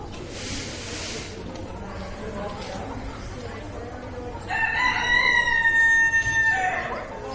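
A rooster crows once, loud and drawn out, at a county fair poultry show with speckled Sussex chickens caged nearby, after a stretch of quieter hall background and soft talking.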